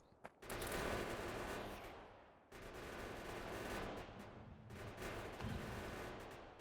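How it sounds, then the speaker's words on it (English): Gun turrets in the video game Factorio fire rapid, dense bursts of automatic gunfire in three long volleys, each separated by a brief pause. "we could just bring these turrets in here just to mop up."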